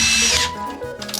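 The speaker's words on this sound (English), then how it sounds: "I'm going to stick this right in the drill." A power drill spins up a homemade sanding wheel clamped in a vise, giving a loud, steady high whine that dips slightly in pitch as the wheel bites into the sandpaper.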